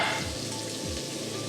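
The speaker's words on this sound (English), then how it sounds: "So once the vegetables are in, I'm going to stir them for 30 seconds to a minute." Sweet potato and purple carrots sizzle steadily in a pot while being stirred, a close, dense crackle with a couple of low scraping strokes of the spoon and no talking.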